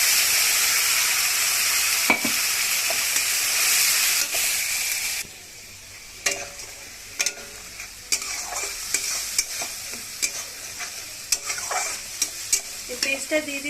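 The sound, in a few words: ginger garlic onion paste frying in a pan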